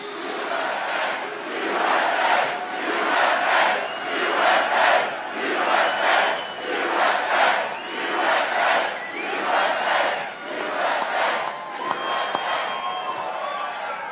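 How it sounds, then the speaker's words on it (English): A large crowd at an outdoor political rally in Lebanon, Ohio roars, cheers and shouts in rhythmic waves, loud and sustained over the whole stretch, with no clear speech on top. "This crowd is incredible."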